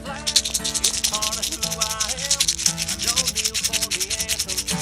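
Rattlesnakes kept in rattle boxes on a homestead, buzzing in a continuous dry, pulsing rattle that stays loud and close throughout.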